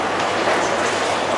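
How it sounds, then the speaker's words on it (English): Train passing an old country railway station in England, a brief broadband rumble and rattle of carriages close by. "But I love these old train stations."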